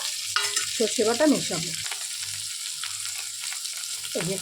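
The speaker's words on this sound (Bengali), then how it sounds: "এটাকে একটু ভাজি" Drumstick vegetable pieces fry in a pan with a steady close sizzle and occasional stirring, while someone talks over it at the start and near the end.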